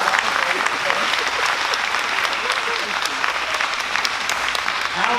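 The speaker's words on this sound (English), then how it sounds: "That deserves a round of applause." A political event audience bursts into steady, loud applause with some crowd noise mixed in, a continuous dense wash of clapping throughout.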